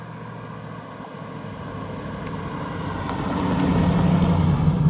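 Rover V8 engine of a 1990s TVR Chimaera British sports car, a steady low droning roar that swells louder toward the end, heard continuously with no talking.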